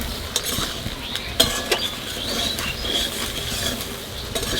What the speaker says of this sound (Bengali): মোচা যত ভাজা হয় তত আর স্বাদ বেশি হয়